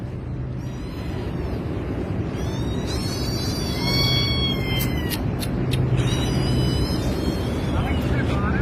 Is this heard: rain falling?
no